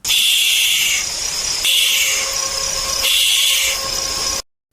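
Barn owl (Tyto alba) screeching: three long, harsh, hissing screams, each about a second and a half, close and loud with brief gaps between them, then silence at the end.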